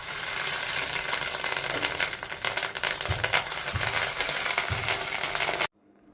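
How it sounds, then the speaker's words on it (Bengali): Fish roe fritters frying in a pan of oil, a dense continuous sizzle with a few low knocks from turning them, then cutting off abruptly into near silence. "বড়াগুলোকে ভেজে নিচ্ছি"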